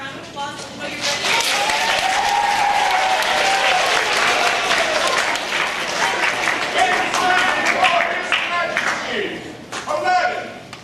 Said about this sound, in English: Maybe a round of applause until you're ready